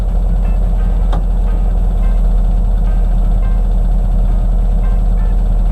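A 1972 VW Bus engine with a suspected bad carburetor idles loud and close, a steady low rumble throughout with a single brief click near the start.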